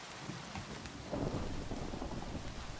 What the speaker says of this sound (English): That rain was falling very slowly.